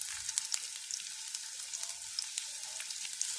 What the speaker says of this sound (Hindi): तो अब मैं इसमें डाल दूंगी ये लहसुन, अदरक, इन्हें अच्छे से सौटे कर लें।